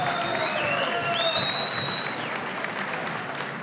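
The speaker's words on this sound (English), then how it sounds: "let's give both fighters a big round of applause" Crowd at a boxing event applauds both fighters after a six-round bout, steady dense clapping and cheering throughout, with whistles rising and falling above the roar.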